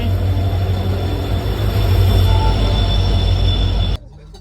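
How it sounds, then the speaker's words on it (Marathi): Loud, continuous rumble of a train close by, with steady high-pitched wheel squeal over it, ending abruptly. "ट्रेन आल्यावर आपली रेल्वे आलेली आहे."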